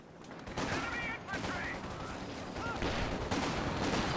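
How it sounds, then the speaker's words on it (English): Artillery barrage from an infantry support gun in Company of Heroes 2, a dense run of booming shell impacts and gunfire layered over game effects, with a voice talking faintly underneath. "ISG going to start barraging where that sniper was hiding"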